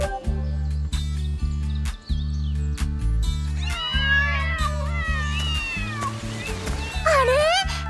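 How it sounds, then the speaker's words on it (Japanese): An animated cat meows several times, rising and falling, over steady low musical backing. "猫が見えるけど"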